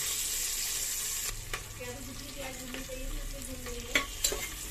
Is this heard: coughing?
no